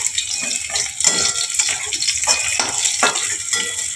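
Onions frying in a pan until brown while making a kochur loti recipe, a close, busy sizzle broken by irregular stirring clatter and scraping of the utensil, with no talking.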